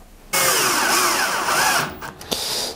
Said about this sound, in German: Und das Ganze schrauben wir jetzt fest